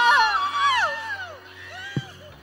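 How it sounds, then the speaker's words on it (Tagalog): Kim Pau Squad fans raise a shout together, loud whoops and yells sweeping up and down over a noisy crowd, with a single sharp knock near the end. "Isang sigawan mula sa Kim Pao Squad!"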